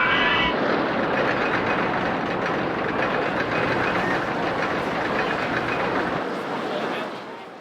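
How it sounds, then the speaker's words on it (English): A mine train roller coaster in RollerCoaster Tycoon Classic rattles along with loud, continuous rumbling and clattering wheels, fading slightly at the end. "A mine train coaster without a traditional lift hill."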